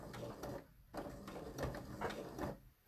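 A sewing machine stitches a welt pocket with a small stitch length of about 2.2, making quiet rhythmic mechanical chatter in short repeating bursts with brief pauses between them.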